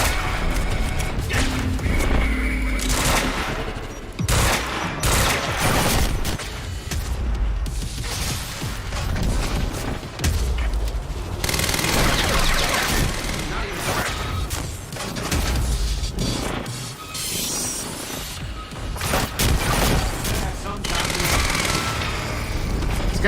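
Bombs exploding in the video game Quantum Break, a loud, nearly nonstop chaotic series of blasts, crashes and rumbling impacts with little pause between them.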